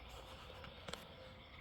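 Frogs croaking at night at a camp and retreat in rural Iowa, one brief nearer croak standing out over a constant faint background chorus of insects and frogs.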